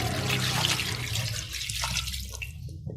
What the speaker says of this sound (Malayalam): ഇതിലേക്ക് നമുക്ക് 1/2 ലിറ്റർ വെള്ളം ഒഴിച്ച് നന്നായിട്ട് ഇതിനൊന്ന് വേവിച്ചെടുക്കാം.